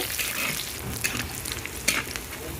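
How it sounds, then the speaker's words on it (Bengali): Chopped onion frying in oil in a clay pan, a steady bright sizzle with a few clinks and stirring scrapes, close and continuous, no talking. "এবার দিচ্ছি পেঁয়াজ কুচি পেঁয়াজ একটু ভেজে নেব"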